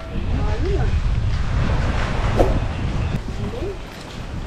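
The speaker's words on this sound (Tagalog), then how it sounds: "Oy, malakas ang alon." Strong ocean waves surge at high tide, a continuous loud wash of surf and wind buffeting close by, with people talking briefly over it.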